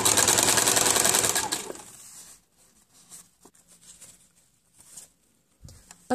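A sewing machine sews satin ribbon onto a tulle tutu skirt in a short, loud, rapid burst of stitching, then stops, leaving quiet rustling of fabric and small handling taps.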